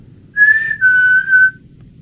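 A person whistles in the Paris catacombs: two clear, loud whistled notes, the first short and higher, the second longer and slightly lower, alone in otherwise near-silent surroundings.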